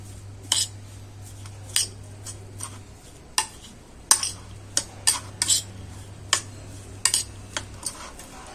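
Salted onion filling for paratha mixed in a bowl, with bright clinks and taps of a spoon against the bowl at an irregular pace over a low steady hum.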